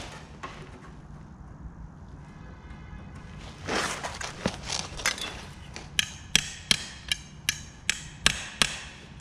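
Hammer on dolly against a Ford Falcon XE body panel during rust repair, with sharp metallic taps that start irregular and settle into a steady run of about a dozen evenly spaced ringing strikes, close and loud.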